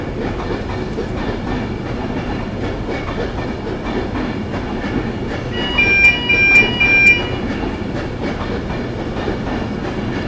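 A TransPennine train rumbles past Carlisle steadily with a faint clickety-clack of wheels on rails, and a brief high squeal of metal partway through.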